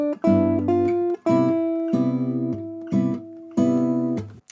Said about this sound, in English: I'm going to play that scale now over a 5/1 cadence so you can hear what it sounds like in context